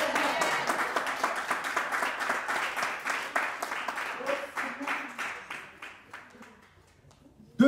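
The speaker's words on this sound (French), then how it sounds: "un applaudissement" Audience applause fills a church gathering, dense clapping that starts loud and gradually thins and fades over several seconds, with a sudden sharp noise at the very end.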